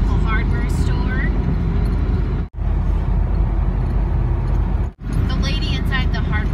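A vehicle drives back from a hardware store near the Adirondacks, its steady road rumble and tire noise close and loud throughout, cut by two brief dropouts, while people talk over it.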